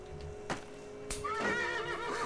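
A horse neighs in the Call of Juarez video game, a loud, wavering whinny that rises and trails off over about a second, preceded by a couple of short thumps against a steady low background hum.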